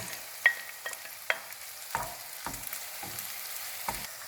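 Carrots are stirred into caramelized onions frying for Uzbek pilaf, with scattered scraping strokes of the stirring over a low sizzle, close up and without talk.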